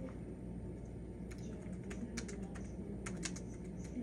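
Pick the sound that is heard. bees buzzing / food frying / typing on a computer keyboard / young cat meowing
typing on a computer keyboard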